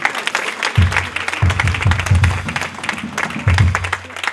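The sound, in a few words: congregation applauding in church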